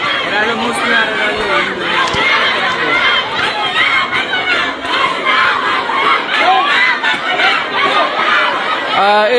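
A crowd of protesters at a girls' high school in Rangpur loudly chants slogans in rhythmic, repeated shouted bursts, with many voices overlapping close by throughout.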